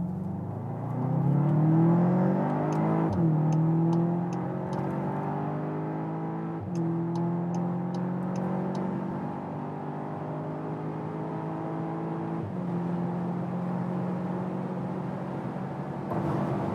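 A Volkswagen Arteon R accelerates hard onto a motorway from about 30 km/h, its engine note climbing through several gears with brief shift breaks, a steady interior whir and rising tone throughout, no talking.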